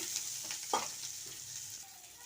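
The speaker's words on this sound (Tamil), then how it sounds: "இப்போ சின்ன வெங்காயம் நல்லா வதங்கிடுச்சு" Small shallots sautéing in a pan for a liver fry, a soft continuous sizzle with faint scraping stirs and one louder clink of the spoon, heard close and alone.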